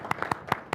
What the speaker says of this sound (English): I think we just need to get a round of applause,